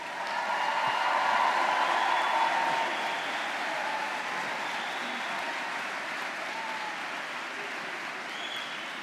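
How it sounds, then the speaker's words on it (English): A large crowd at a university graduation ceremony applauds continuously, loud at first and then easing slightly to a steady, sustained clapping that fills the whole stretch. "give a big round of applause for all the recent graduates"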